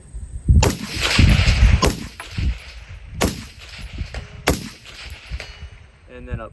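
Suppressed 5.56 rifle shots through a Dead Air Sandman S suppressor with a 5.56 flash hider end cap, fired at a 300 target. About six loud, sharp cracks come at uneven intervals of roughly a second, each with a short ringing tail.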